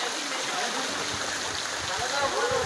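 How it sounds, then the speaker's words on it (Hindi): Heavy rain pouring down with runoff water streaming into a closed shop, a dense steady hiss of rainfall and gurgling flow, with brief thumps and splashes and faint voices in the background. "अभी तेज़ बारिश हो रही है"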